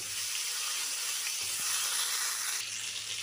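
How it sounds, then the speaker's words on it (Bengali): Potato and pointed gourd pieces fry in fish-frying oil, producing a steady, soft sizzle with a faint low hum and a few light stirring knocks, no voices. "আলু পটলগুলো এবার ভাজা হচ্ছে"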